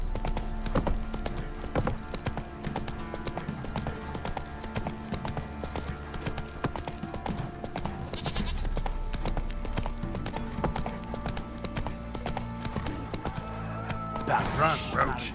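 Horse hooves clip-clop steadily through a scene in the video game The Witcher 3, set under a dense layer of music and ambience while characters talk over it, with an occasional whinny-like cry near the end.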